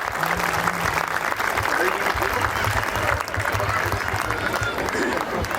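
Loud, dense clapping from an audience at a school prize distribution at Ramana Public School in Raipur, sustained throughout, with a voice speaking over it near the start and again later.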